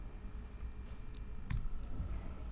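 Keystrokes on a computer keyboard in a quiet room while searching software shortcuts, a few scattered clicks with a sharper tap near the middle, close and faint over low background hum.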